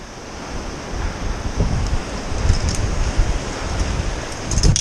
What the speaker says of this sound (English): Suppose wind has picked up a bit